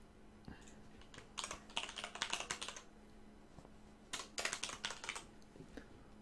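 Typing on a computer keyboard in two quick bursts of rapid key clicks separated by a pause, close and fairly crisp over a quiet background hum.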